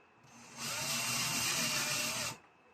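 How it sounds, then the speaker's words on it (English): A power drill bores holes into wood overhead while a ceiling TV mount is being installed, in one steady whirring burst of about two seconds that starts and stops sharply, with no talk. "We're just going to drill our holes here."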